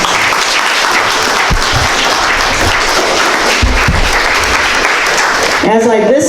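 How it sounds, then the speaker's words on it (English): Veterans at a Veterans Day program receive a loud, sustained round of applause from the audience, steady throughout, with a voice briefly heard near the end. "Let's give the veterans a round of applause"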